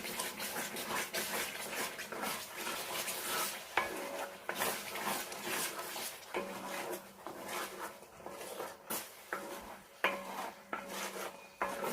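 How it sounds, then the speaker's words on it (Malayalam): A spoon stirs ghee into thick amla lehyam (gooseberry paste) in a pan, with repeated scraping and clinking of metal against the cookware over a soft sizzle, close and steady. "ഇനി ഇതിലേക്ക് ഒരു അര ടീസ്പൂൺ നെയ്യും കൂടെ ചേർക്കാം അത് നന്നായി മിക്സ് ചെയ്യണം"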